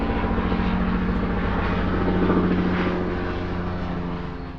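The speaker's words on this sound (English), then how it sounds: "there's a helicopter in the background" A steady, loud rotor-engine drone from a helicopter fills the whole stretch, swelling slightly and then easing as it passes overhead.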